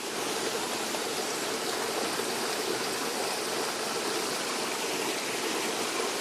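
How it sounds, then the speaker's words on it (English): A brook in Acadia National Park runs steadily, swollen after overnight rain, its broadband rushing wash close and constant with no voices. "Even if you didn't hear the sound of all the running water, you would hear the sound of wind."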